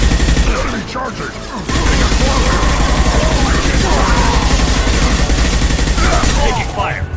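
Mass Effect 2 combat gunfire crackles in sustained bursts across the whole stretch, loud and near, with a brief lull early on and game voices calling out over the shooting.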